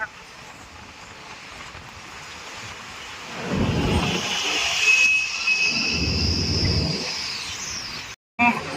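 Heavy rain and strong wind sweep a cargo ship berth at Laem Chabang port in the afternoon, a steady loud hiss of rainfall with louder gusting swells midway and brief rumbling surges.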